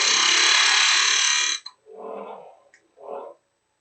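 A woodturning lathe tool cuts a three-corner wooden box, making a steady loud scraping whir that stops abruptly after about a second and a half, followed by a few softer knocks and rubs up close.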